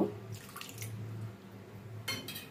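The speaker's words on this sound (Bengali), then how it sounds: "মশলার সঙ্গে আর একটু সামান্য জল আমি এর মধ্যে দেব।" Water is poured into a simmering fish curry masala, a faint, close, brief trickle and splash over a low background hum, with no one speaking.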